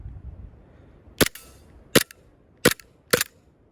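An AW Custom VX7 Z80 green gas airsoft pistol fires four sharp, loud cracks at uneven intervals over a few seconds, close to the listener, with a quiet outdoor background between shots.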